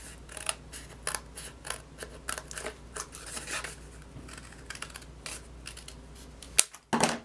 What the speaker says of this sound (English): you'll start right here where that top piece of paper ends, and you're going to trim